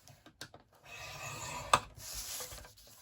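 Scoring a wooden piece for a cookie box at one inch: a soft, steady rubbing rasp of blade on wood lasting a couple of seconds, with a few light taps before it and one sharp click partway through, close and fairly quiet.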